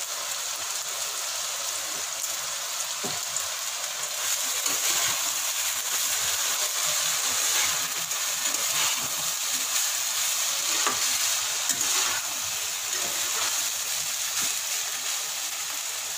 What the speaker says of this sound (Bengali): এবার এটা ভালো করে মিক্স করে নেবো